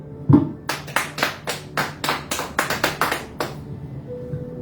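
A church congregation claps along in a steady rhythm during a prayer service, with about a dozen sharp, fairly even claps over a few seconds while a voice speaks over them.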